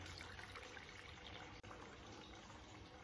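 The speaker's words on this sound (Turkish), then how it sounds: "bir buhar makineniz varsa içerisine su koyarak" Water trickles and pours steadily into a steam diffuser machine, a continuous soft running sound that is faint and close, with no talking.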